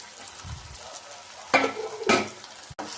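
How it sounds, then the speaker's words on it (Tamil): Crushed ginger, garlic and green chili paste fry with mutton in hot oil in a pan for mutton sukka, giving a steady crackling sizzle. Two louder bursts of stirring and scraping rise over it. "இதையும் சேர்த்து நல்லா வதக்கிடணும் பச்சை வாசனை போற அளவுக்கு."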